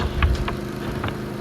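A riding lawn mower with its cutting blades switched off runs steadily on a sidewalk, the low engine drone continuous and fairly close, with a few light clicks and knocks over it and no talk.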